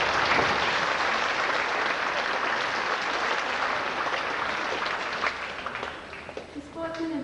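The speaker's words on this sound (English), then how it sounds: "A round of applause to all Year 10 students" A school assembly audience claps steadily for Year 10 students recognised for sport, a dense, continuous burst of applause that tapers slightly toward the end.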